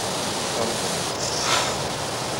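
Steady broadband roar of distant motorway traffic, a continuous wash of noise with a slight swell midway, no voices.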